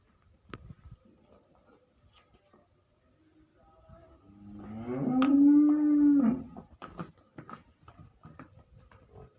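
A bovine on a Punjabi cattle and buffalo farm lets out a single loud, drawn-out moo, with scattered clatter and faint rustling before and after it.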